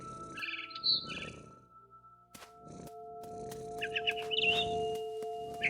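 Chirps and tweets of a mother bird in the video game What Remains of Edith Finch, heard in short bright bursts over a steady game ambience with a low hum and tonal drone.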